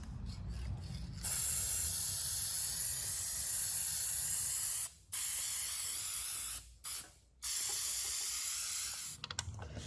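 Clear matte sealer hisses steadily from a spray can onto distressed thrift-store farmhouse decor, in several long bursts broken by short pauses, close and alone with no voices.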